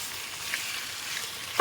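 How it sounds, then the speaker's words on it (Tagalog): Chicken wings sauté in a pan for chicken adobo, giving a soft, steady sizzle at close range that ends in a sudden loud burst of frying at the very end. "luluto ko na yung chicken wings. And, igigisa ko muna siya."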